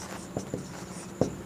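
Chalk or marker strokes on a classroom board during a Class 11 set theory lesson, three short scratchy taps spaced apart, fairly faint and with no talking over them.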